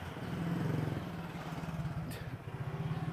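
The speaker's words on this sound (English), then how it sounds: "Look, a tuk-tuk." A tuk-tuk in Thailand passes on a neighborhood street, its small engine putting out a steady low putter that swells and then eases off as it goes by, with no talk over it.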